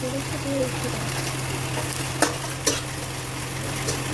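Garlic frying in a kadai, a soft steady sizzle with a low hum underneath and two sharp clinks of a utensil against the pan midway.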